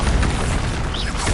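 A Bombarda blasting spell bursts in Hogwarts Legacy, a loud, dense booming explosion that fills the whole moment with steady rumbling energy and no pause.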